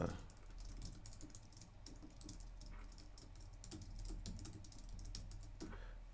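Someone types a stream title on a computer keyboard, with quiet, close key clicks in an irregular run over a low steady hum.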